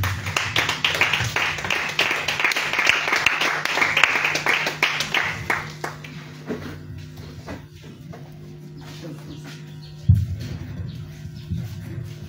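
A crowd at a prayer vigil claps and applauds for Jesus, loud and dense for about five seconds, then tapers off into scattered claps and a few sharp hits.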